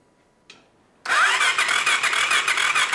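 A 50HP Power Wheels ride-on with a custom exhaust cranks over after a second of near silence and a brief click, then a loud, close, rapid rattling churn continues steadily to the end.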